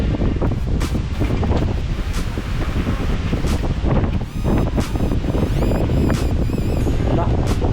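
Outdoors at a boat building site, wind blows steadily with microphone buffeting and rustle, while scattered knocks, faint chirping tones and people talking sit under the continuous roar.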